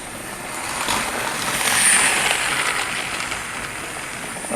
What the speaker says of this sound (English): One more lap for the tank locomotive